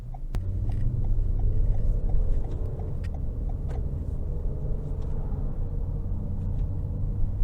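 A 2022 Toyota Highlander XLE AWD accelerating in sport mode gives a steady, moderately loud engine drone heard from inside the cabin, with its 8-speed transmission shifting under a low road rumble.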